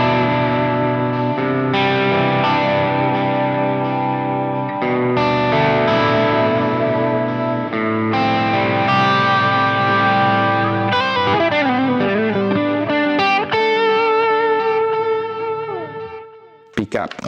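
PRS Custom 24 SE semi-hollow electric guitar played through distortion with delay added, loud sustained chords giving way to picked lines whose echoing repeats trail behind each note, heard alone with no talking.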